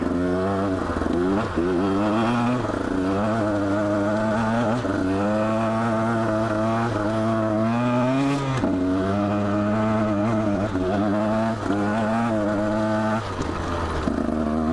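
A 2017 Husqvarna TE150 motorcycle fitted with a Lectron carburetor accelerates through repeated throttle pulls. The close, loud engine note climbs, drops and climbs again, holding strong throughout with no talk over it.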